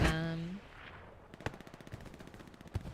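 Machine gun fire in the Hell Let Loose video game, a series of sharp distant bursts and single cracks with a faint voice near the start.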